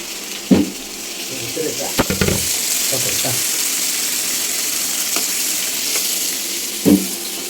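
Meat cooked down in a wok hisses in a loud, steady sizzle as water is poured in, with a few sharp clanks of the spatula against the metal and occasional voices nearby.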